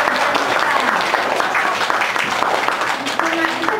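A classroom group claps for Yuka, a sustained burst of dense, close applause lasting the whole moment with faint voices underneath.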